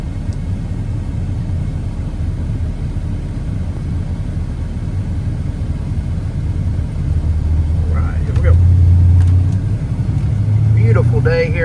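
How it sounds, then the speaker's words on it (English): A 1995 Chevrolet C1500 Silverado pickup truck drives on a test drive, its engine a steady low rumble with road noise throughout and a voice briefly heard near the end. "we're going to take this 1995 Chevrolet C1500 Silverado for a test drive and see how it does"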